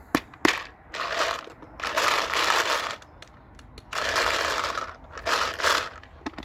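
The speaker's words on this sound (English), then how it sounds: "let me turn on my hopper really quick. So there's a little rotor inside this that moves around and rotates." Speedster Loader 2 paintball hopper on a Planet Eclipse EMEK 100 marker, its internal rotor spinning in several loud whirring bursts, each lasting about a second, with sharp clicks between them and no talk.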